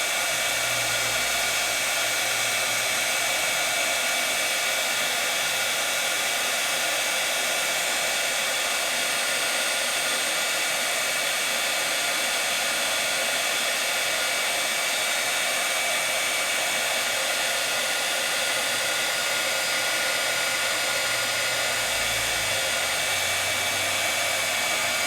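A heat tool heat-sets rub-on craft transfers, with a loud, unbroken blowing roar lasting the whole stretch, close up and alone.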